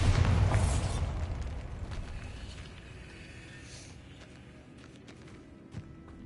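A blasting-spell explosion in a wizarding video game: a heavy boom at the start whose rumble fades away over a few seconds, leaving quiet ambience with a small knock near the end.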